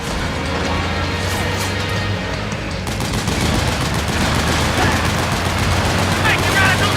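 Sustained rapid gunfire in Metal Gear Solid 4 as a gate is shot at, with machine-gun bursts that grow denser and louder partway through, set over game noise and voices.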